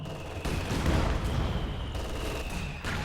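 Artillery and gunfire barrage in Company of Heroes 2, a continuous rumbling roll of distant blasts and rapid shots with a few sharper bursts layered over it.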